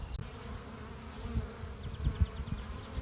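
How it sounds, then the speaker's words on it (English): Honeybees at a hive entrance make a soft, continuous buzzing hum with occasional closer passes by individual bees, faint and steady against a low background. "We are at the entrance of a honeybee hive. We are watching the honeybee workers, the forager bees, returning from"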